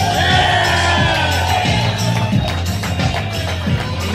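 A crowd cheers and shouts loudly for actor John Fiore at a live show, a steady roar of voices with whoops, and no distinct clapping stands out.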